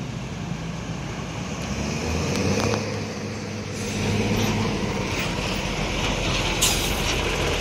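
Bus engines idling and rumbling at a busy bus terminal, a loud, steady low drone with passing vehicle noise swelling and fading, plus a few brief air hisses.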